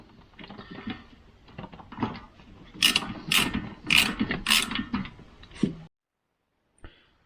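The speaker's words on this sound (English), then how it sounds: "And now it's time for all the bolts as well." A ratchet loosens bolts on a Jaguar V12 cam cover with rapid, close clicking that rises into several bright metallic bursts, then stops abruptly, followed by one faint knock.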